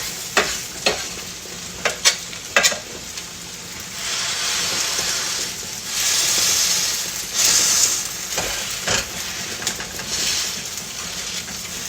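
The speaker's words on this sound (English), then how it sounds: "I hear that it's sizzling a little bit" Hash brown potatoes sizzling in a frying pan, a steady crackling hiss with scattered sharp clicks and taps of a utensil, moderately close and alone.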